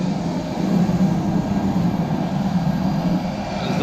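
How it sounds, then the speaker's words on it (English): A fixed-wing airplane's engine drones in a loud, steady, low rumble that holds without break, with no talking over it. "There's the plane right there."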